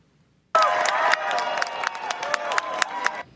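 A large crowd cheers and claps at a Little League World Series game in Williamsport, loud, steady applause that starts abruptly and carries on with scattered sharp claps and shouts.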